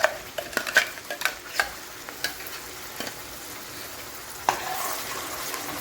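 Fried onion mixture for Maharashtrian shev bhaji stirred in a pan, several quick scraping and tapping strokes early on over a soft, steady sizzle that continues alone afterward.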